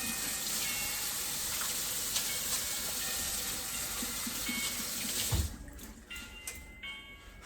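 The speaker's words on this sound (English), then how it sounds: "let me just wash my hands here" Water runs steadily from a kitchen tap while hands are washed, a broad continuous splashing hiss that cuts off after about five seconds, followed by quieter handling sounds, no talking.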